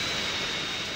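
Steady, loud roar of a jet aircraft engine in GTA San Andreas, a continuous broadband whine and rumble filling the whole moment with no talk.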